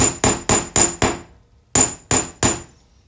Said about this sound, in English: We're just gonna hammer very generously and hard.